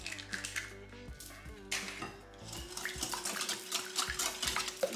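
Eggs and sugar are hand-mixed in a bowl with a utensil, giving a steady run of clinking, scraping strokes against the bowl's sides that carries on without pause, close up and fairly loud, with no talking.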